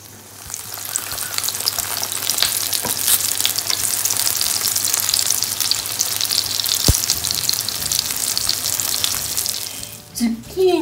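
Zucchini slices sizzle steadily in a hot frying pan for a zucchini strudel, a continuous bright crackle with a few sharp clicks and a brief clatter near the end, no talking.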